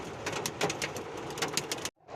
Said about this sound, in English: we're getting slammed with hail, guys. We are getting slammed with hail. You hear that?